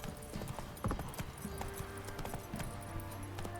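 Hooves of Roach, the horse in The Witcher 3: Wild Hunt, clip-clopping in a steady quick rhythm at close range over a faint ambient game background, with no talk.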